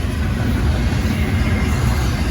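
A westbound Norfolk Southern intermodal freight train stacked with JB Hunt double-stack containers rolls past, a steady, loud, broad rumble of wheels and cars filling the moment with no voices.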